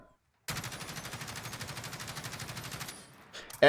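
A gun fitted with a bipod underbarrel fires one sustained automatic burst in Warzone, a rapid, evenly spaced string of loud shots lasting about two and a half seconds before cutting off.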